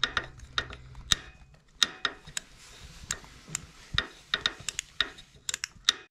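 A ratchet with a long socket removing a spark plug from a Kawasaki Z1000 motorcycle, clicking in quick irregular bursts of sharp metallic ticks at close range, with no speech.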